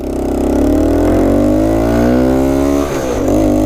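Honda Trail 90 motorcycle pulling away from a rolling start in first gear, its small engine buzzing loud and close with revs rising steadily, dipping briefly, then climbing again, with no talking.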